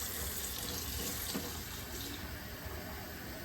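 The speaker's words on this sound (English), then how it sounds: "We're filling it up in the sink." Hot water runs from a kitchen sink tap into a pressure canner, a steady, dense rushing and splashing that holds level throughout, close by and with no talking.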